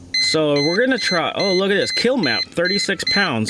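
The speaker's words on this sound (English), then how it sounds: "Now, excuse the beeping behind me" A steady high-pitched electronic beep sounds from the 2019 Subaru WRX STI with big 6466 turbo during an ECU reflash, repeating in short pulses behind a man's close, continuous talking.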